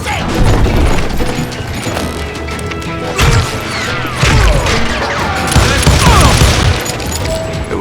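Gunfire in the Western shooter Call of Juarez Gunslinger, with bursts of gunshots, crashes and impacts coming in clustered volleys, loud and dense against game music, with scattered voices.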